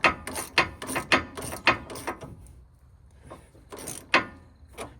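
A hand ratchet clicks in quick close bursts as it snugs the sway bar end link bolts on a used truck. A run of rapid pawl clicks is followed by a short pause and then a few more clicks.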